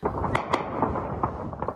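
Repeated explosion blasts in Sudan's conflict zone on the day ending Ramadan, several sharp booms standing out over a continuous rumbling din, fairly loud and close.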